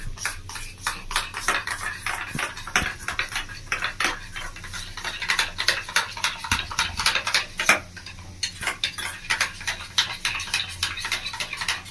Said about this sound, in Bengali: এবার মশলাটাকে ভালো করে এর সাথে মিশিয়ে নেব।